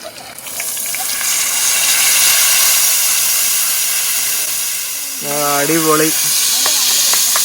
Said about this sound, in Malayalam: നമ്മൾ പതുക്കെയാണ് കേട്ടോ മീനെ ഫ്രൈ ചെയ്യുന്നത്